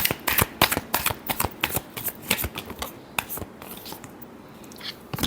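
A deck of tarot cards being shuffled close up, with a quick run of crisp riffling flutters and soft slaps in uneven bursts, thinning out toward the end.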